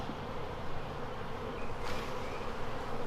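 Honey bees buzz steadily in a dense, continuous hum from an opened beehive during an inspection, close and moderately loud for the whole stretch with no talking.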